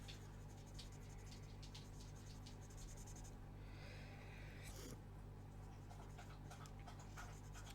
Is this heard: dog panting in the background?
yes